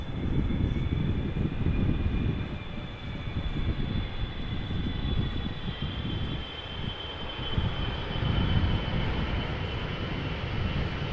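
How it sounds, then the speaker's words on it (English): KLM Boeing 777-300 airliner arriving at Amsterdam Schiphol, a continuous distant engine roar with rumbling low end and a faint high whine, steady across the whole stretch with some wind buffeting. "KLM 777-300 arriving from Willemstad, Curaçao."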